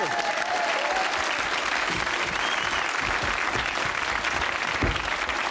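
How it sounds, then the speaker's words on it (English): Sustained studio audience applause on a 1990 British comedy variety show, steady dense clapping filling the whole stretch with a slight swell near the end. "big round of applause after Zoe."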